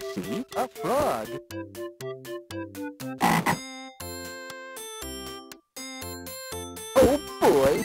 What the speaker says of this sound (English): I see a frog.